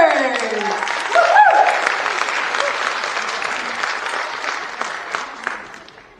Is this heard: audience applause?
yes